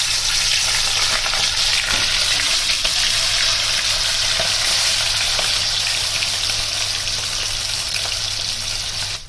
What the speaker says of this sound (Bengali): তেল গরম হয়ে গেছে, মাছের মাথাগুলোকে ভেজে নিচ্ছি।